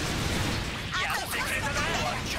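Rocket barrage and wide-area bombing in Gundam Breaker 3 on PS4, a dense continuous roar of crackling explosions and bursts with game sound, and a voice faintly under it.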